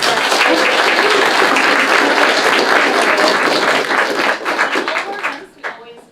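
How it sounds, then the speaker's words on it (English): A university forum audience gives a steady round of applause for the student president, dense clapping holding at full strength before tapering into a few scattered claps at the close. "So give a round of applause."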